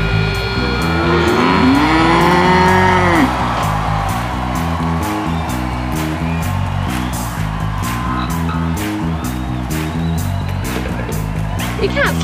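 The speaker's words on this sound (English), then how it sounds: "You can't sleep with cows, Mel." Several cows moo in a drawn-out, overlapping chorus on a farm, close and loud, with engine-like rumble and scattered clicks throughout.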